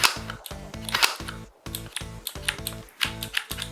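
A Strike Pros tactical laser tag gun fires single shots in a steady series of about a dozen quick electronic zaps, each a short buzzy tone burst, close and alone.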